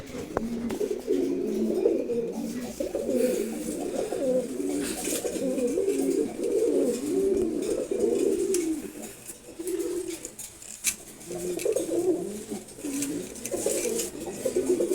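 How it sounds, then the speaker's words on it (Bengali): Several male Giribaz pigeons coo in steady overlapping bursts across the whole stretch, close and fairly loud, with a short lull midway before the cooing resumes. "বাট এই মুহূর্তে রাখছি 10টার কবুতর, নর কবুতর সবগুলোই।"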